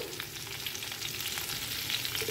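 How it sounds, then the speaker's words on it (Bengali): Potato and pumpkin pieces frying in oil in a pan, a soft, continuous crackling sizzle with faint stirring, fairly quiet and steady. "এবার আলু আর কুমড়োটা দিয়ে আমি ভালো করে একটু ভেজে নেব"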